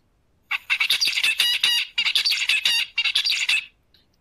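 Songbird song recorded twelve days after a neural manipulation, once recovered: three close, loud bouts of fast repeated chirping syllables separated by short pauses, with nothing else audible.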